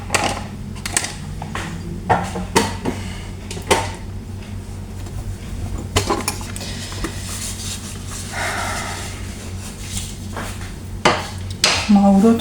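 Dishes, pots and cutlery clatter and clink in a home kitchen as they are put away, sharp irregular knocks and scrapes spread across the clip with a low steady hum beneath, close and moderately loud.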